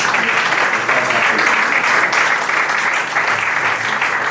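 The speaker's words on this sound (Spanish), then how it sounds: "Hay que aplaudir ese poema que es fantástico" An audience applauds a poem at a poetry award ceremony honoring a poet's career. The dense, loud clapping is sustained evenly throughout, with no pauses.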